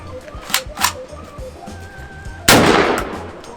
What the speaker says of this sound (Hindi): अभी इस बंदूक को चेक करते हैं कि फायर करते हैं कि नहीं, अपनी तसल्ली के लिए 2-3 फायर करते हैं